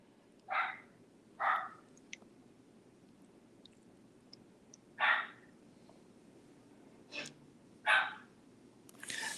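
Scattered single barks from a dog in another room, spaced a second or more apart and muffled by distance, with a few faint clicks and a louder burst at the end against low room noise.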